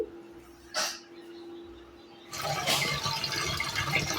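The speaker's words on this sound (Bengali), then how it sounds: "আগে চালটাকে ভালো করে একটু ধুয়ে নিই" Rice washed with water in a cooking pot: after a quiet start with a faint hum and one brief scrape, steady sloshing and splashing of water takes over in the second half.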